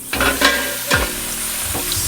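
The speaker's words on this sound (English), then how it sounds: "Sizzling hot." Trader Joe's mini chicken tacos sizzle and crackle in a hot frying pan, with a few louder bursts as they are stirred or moved, close up and with no voices.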